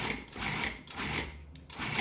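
A food processor pulses garbanzo beans for hummus in short, rhythmic bursts, about four quick whirring pulses close by at low volume, with no talking.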